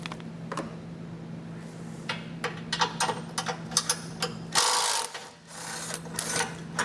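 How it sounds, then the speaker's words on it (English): A socket wrench backs out the 18mm tow hook bolts on a 2015 GMC Canyon, giving rapid ratcheting clicks in bursts with a few metallic clanks, close up over a low hum, and no speech. "take a socket and wrench, and pull them"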